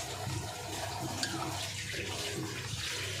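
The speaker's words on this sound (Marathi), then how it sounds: "त्यात थोडंसं पाणी टाकायचं जास्त नाही टाकायचं" Water poured into a pressure cooker holding cooked mutton, a steady close splashing and trickling that runs through the whole moment without any talk.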